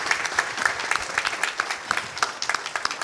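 Audience applause at a News24 ninth anniversary cake-cutting ceremony, a steady patter of scattered hand claps from a modest crowd, moderately loud and continuous with no talking over it.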